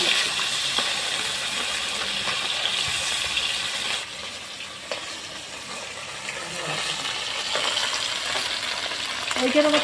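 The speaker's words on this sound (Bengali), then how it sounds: "সুন্দর করে লাল লাল করে মাছটা ভেজে নেব" Parshe fish frying in oil in a pan, a loud steady sizzle with occasional stirring scrapes and faint clinks running throughout, close and continuous.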